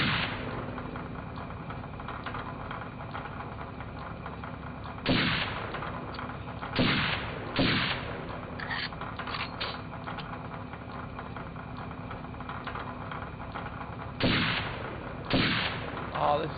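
Rifle shots in the game Second Sight, a handful of sharp cracks spaced irregularly over a steady mechanical background hum, with occasional clicking between them.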